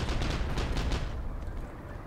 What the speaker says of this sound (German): da oben explodiert schon wieder ein Panzer.